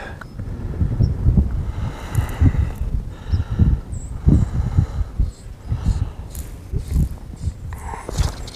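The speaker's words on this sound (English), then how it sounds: "That wind is really blowing again today" Gusting outdoor wind buffets the microphone with rough low rumbling that rises and falls throughout, loud and close, with occasional faint higher sounds.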